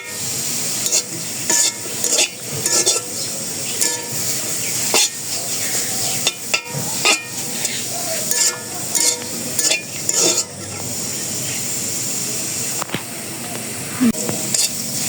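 Vegetable bhaji sizzles and fries in a pan, with steady hissing and repeated scraping stir strokes close by, no talking.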